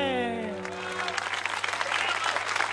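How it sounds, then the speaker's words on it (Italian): Applause from an audience gathered in a town square, steady clapping rising as a held sung note fades out at the start. "fate un applauso"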